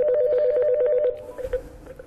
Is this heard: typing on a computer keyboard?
no